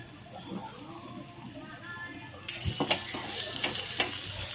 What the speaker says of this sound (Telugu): బాగా అన్నీ కలిసేటట్టుగా కలపాలండి, బాగా కలపాలండి